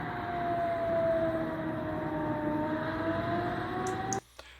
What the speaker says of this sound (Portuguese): Dá para ouvir a sirene de defesa antiaérea